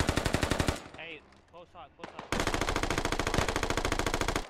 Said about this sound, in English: Jive starts shooting.